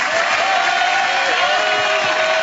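Sustained audience applause and crowd noise for a singer at a televised evening show with a children's choir, steady and loud throughout, with a held tone ringing underneath.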